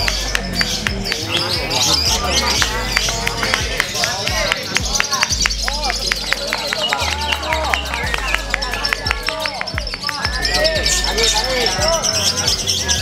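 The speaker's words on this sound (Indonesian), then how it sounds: "kali ini saya mau review nih Lovebird pendatang baru ya" Lovebird singing with rapid, dense chirps and warbling trills that run continuously and fairly loud, over a low steady background hum, with possible murmuring from people nearby.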